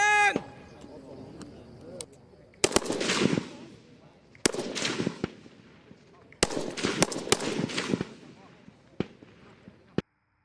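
Live rounds fired at targets during a Lao village militia training drill, heard as sharp outdoor gunshot cracks, single shots and rapid bursts spread across the stretch, with a voice talking briefly at the start.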